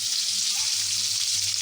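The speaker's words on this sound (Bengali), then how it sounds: "ভাজা হোক" Chicken pieces frying in hot oil, a steady close sizzle holding at an even level throughout the short stretch, with no voices over it.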